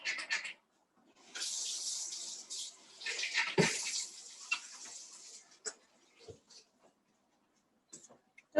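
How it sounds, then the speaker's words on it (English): Hands being washed under a running tap in a home kitchen during cooking, with a steady broadband water rush for several seconds, some splashes and clinks, then brief sporadic drips and knocks as the flow stops. "Wash my hands really good."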